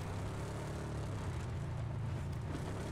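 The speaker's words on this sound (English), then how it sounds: "I hear a car." A vehicle engine drones steadily close by in the PUBG Miramar desert map, a constant low rumble running unbroken for three seconds with no voices over it.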